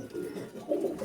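High-flying teddy pigeons cooing softly, low muffled coos rising and falling in a faint, close, short burst.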